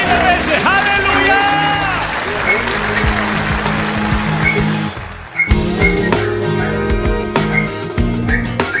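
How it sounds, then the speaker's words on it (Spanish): A large church audience gives loud, sustained applause with crowd cheering and hubbub, and music plays throughout before a brief dip and a renewed swell. "Póngase de pie y le dé el mayor aplauso de la historia al Señor de señores"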